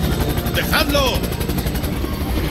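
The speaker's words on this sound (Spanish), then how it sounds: "Helicóptero." Helicopter in the video game Resident Evil 6, a steady rotor drone filling the background throughout, with a shouted voice and a few sharp game effects over it.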